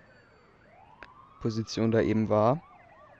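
Police sirens from the GTA2 video game wail in a loud burst of rising and falling tones, with a faint earlier siren sweep and someone speaking over the game audio.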